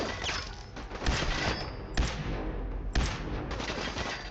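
Gunfire in the Fallout 4 video game, several loud bursts of rapid shots with sharp reports near one, two and three seconds over a dense rattling backdrop.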